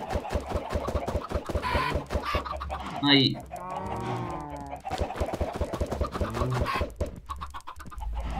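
Minecraft chickens clucking in a farm pen, a cluster of short squawks and clucks close by, mixed with a person talking over them.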